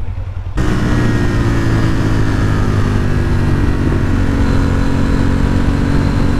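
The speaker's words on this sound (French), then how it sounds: "Donc c'est une 1000 VTR de chez Honda." A Honda VTR1000 motorcycle engine kicks in after a brief moment and holds a loud, steady, humming drone close to the listener.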